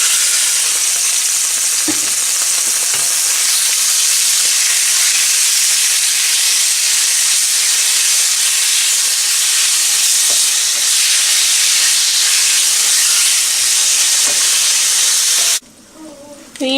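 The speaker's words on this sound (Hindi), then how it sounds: "अब इसमें 2 टेबलस्पून ऑयल डालूंगी मैं पैन में, और इसमें ये चिकन डाल देंगे।" Chicken frying in about two tablespoons of oil in a pan, a steady loud sizzle and hiss running unbroken for a long stretch before cutting off abruptly near the end.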